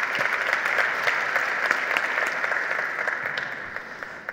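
An audience applauds the exterior design chief of DS Automobiles at a launch event at the Louvre Pyramid, a sustained, moderately loud round of clapping that eases off slightly toward the end.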